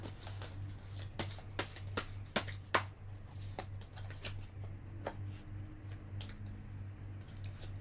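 Tarot cards are shuffled and drawn by hand in a quiet room: a run of sharp, close card flicks and snaps, thick at first and then sparser, over a steady low hum, with no talking.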